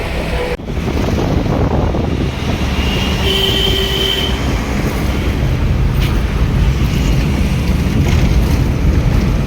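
Steady, loud rumble of a moving Mumbai local commuter train heard from inside a carriage on the way to Churchgate, with a brief wheel squeal partway through.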